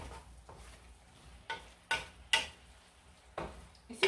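Chicken frying in a pan at home, sizzling softly while being stirred, with intermittent scraping and tapping strokes every half second or so, fairly quiet and close.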